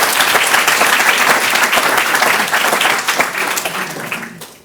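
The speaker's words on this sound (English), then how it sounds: "give you one more round of applause." A symposium audience gives a loud sustained round of applause, dense clapping from a large room that tapers off over its last second.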